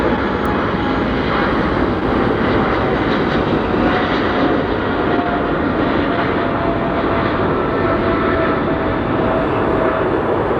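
Air Zeta Boeing 747-400 cargo jet at LAX, a continuous loud rumble of jet engines holding steady throughout with no break.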